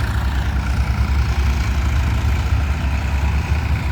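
A tractor engine runs in a farm field with a steady low rumbling drone, loud and close, with no break in the sound.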